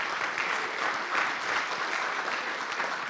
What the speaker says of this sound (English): So round of applause for the My Possibilities staff.